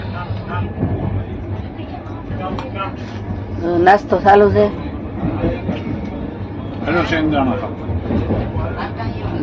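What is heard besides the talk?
train ride to Ujjain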